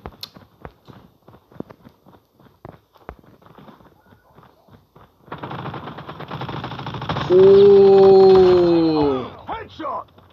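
Gunfire in the mobile shooter Call of Duty Mobile starts as sparse sharp clicks and taps, then swells into a loud sustained burst of rapid fire mixed with a drawn-out tonal voice sound before cutting off.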